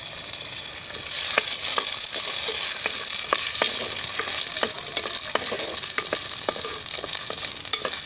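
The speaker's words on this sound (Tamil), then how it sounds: "இது கூட கொஞ்சோண்டு கறிவேப்பிலை, கொஞ்சமாக எண்ணெய் சேர்த்து நல்லா வறுத்தெடுத்துக்குங்க." Shallots and curry leaves fry in a little oil with a bright, steady sizzle. Regular clicking stirs and scrapes come through close up throughout, with no voices.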